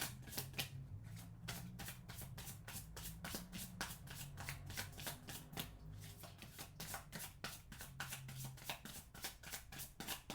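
Tarot cards being shuffled by hand close up, a fast continuous run of crisp riffling flutters and slaps with no talking.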